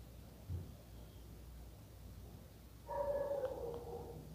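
Dog in the video game Bully giving a few short barks and yips, faint at first and then a clearer tonal whine-like bark toward the end, over a quiet game background.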